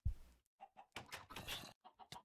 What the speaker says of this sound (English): Get that chicken in there.